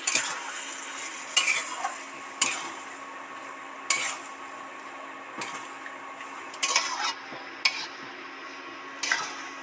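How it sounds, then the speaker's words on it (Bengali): Repeated scraping strokes of a utensil stirring garlic in a frying pan, over a steady background sizzle, with sharp clicks recurring every second or so. "এবার এইটার মধ্যে সাঁতাল দিয়ে দেবো, নেড়ে চেড়ে সুন্দর করে মিশিয়ে দেবো"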